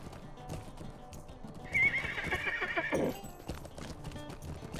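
A horse in the Lord of the Rings Online game whinnies loudly in a rising, then falling neigh, with clip-clop hoofbeats and faint background talk around it.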